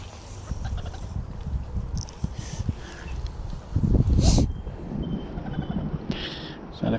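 Wind gusting across an open summer trout fishery lake, a steady low rumble with a louder buffeting burst midway, heard alone without talk.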